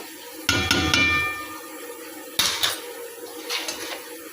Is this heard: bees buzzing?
no